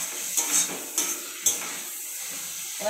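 Spices frying in oil left over from frying fish, stirred in a pan for a spicy fish curry, with a soft sizzle and a few light clinks of the spoon against the pan, close and fairly quiet.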